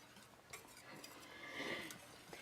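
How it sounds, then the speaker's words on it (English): A utensil stirs a milk and cheese sauce in a pot for crab macaroni and cheese, giving soft quick scraping and light clinks against the metal, faint and close. "Stirring a little bit too fast there."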